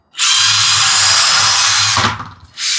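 Micro RC truck with drift tires spinning its wheels while pulling a heavy trailer: a loud, steady high-pitched whine lasting about two seconds that cuts off, then starts again briefly, close by.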